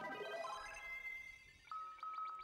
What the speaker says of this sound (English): warp takes you up one floor and gives you a sound effect that I'm sure everybody wants to set as their ringtone now